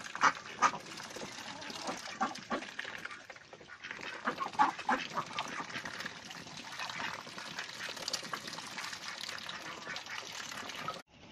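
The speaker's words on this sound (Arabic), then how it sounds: "البط الكبير بقوم اسيبه هنا والفراخ" A noisy flock of ducks and chickens fills the air, with continuous overlapping quacks, honks and clucks close by, busy and fairly loud throughout.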